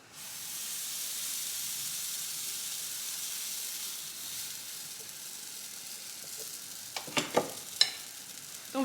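A vegan pancake sizzles steadily in a frying pan, a continuous close hiss with a few sharper crackles and pops toward the end.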